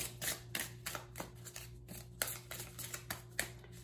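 Oracle cards being shuffled by hand, a quiet series of soft papery riffles and taps in an uneven rhythm, close and faint against a low steady hum.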